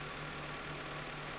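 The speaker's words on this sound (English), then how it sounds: "Disconnect the engine breather hose and start the engine." A Volkswagen car engine at operating temperature idles steadily, a continuous close mechanical rumble with a faint vibrating hum and no talk.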